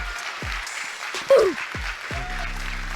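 An audience claps and cheers in a steady wash of applause, with a brief louder swell near the middle and a few other sharp sounds and tones layered over the crowd.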